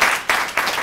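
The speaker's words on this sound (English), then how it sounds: "So a big round of applause for them and everything that they've done." Audience applause at a community event honoring Native American ancestors in San Diego, a dense wash of clapping swelling in short surges across the whole span, close and steady.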